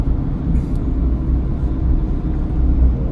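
Low, steady cabin rumble of a car being driven, heard from inside as a constant droning road and engine noise with no talk.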